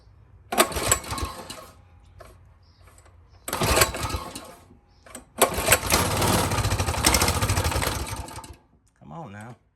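Honda CT200U trail motorcycle with the choke on, brought back from long disuse, cranking and firing in short rough bursts that catch and run raggedly for a few seconds, then a voice right after.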